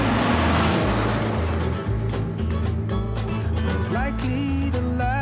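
A car driving along with steady engine drone and road rumble, loud and continuous, with some tonal whines rising near the end.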